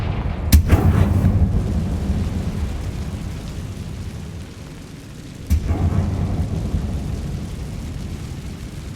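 A Confringo explosion spell cast in the Hogwarts Legacy video game, set in a catacomb: two sharp booming blasts about five seconds apart, each followed by a deep rumbling decay, with no talk.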